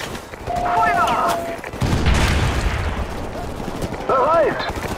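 Gunfire in the military shooter Call of Duty: Modern Warfare Remastered, sustained crackling shots and booms running through most of the stretch amid a busy battle mix, with voices calling out over it.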